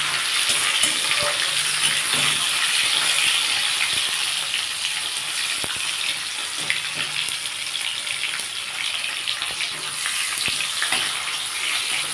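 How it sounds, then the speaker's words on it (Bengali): Tomato frying in a pan, a loud, dense, hissing sizzle that carries on without a break, with faint scrapes and taps from stirring. "টমেটোটা দিয়ে ভালো করে একটু ভেজে নেব"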